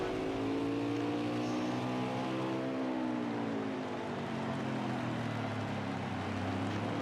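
Racing truck engines roar at Martinsville, a loud, continuous drone with rising and falling engine pitch as the trucks run close together around the short track.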